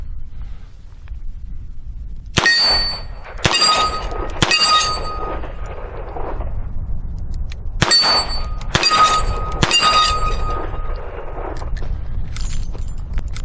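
A Ruger Security Six .357 revolver fires double-action shots at steel plates outdoors, each sharp report followed by a ringing metallic clang; about six hits come in two uneven bursts over a steady background rumble.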